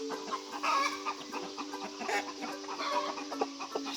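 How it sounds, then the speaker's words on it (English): Chickens and small baby chicks clucking and peeping together on a farm, with a rooster among them; steady overlapping clucks and high chirps close by throughout, no talking. "Like seeing these little baby chicks in with all the other chickens"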